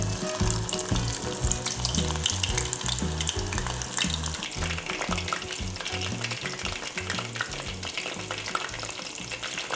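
Mushrooms fry in hot oil for mushroom 65, a loud, constant close sizzle with bubbling and spitting that runs without a break and has no speech over it.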